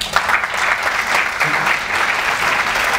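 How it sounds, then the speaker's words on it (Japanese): A theater audience at a film talk event and stage greeting applauds the arriving cast with dense, loud, sustained clapping that fills the room steadily throughout. "皆さん大きな拍手でお迎えください。"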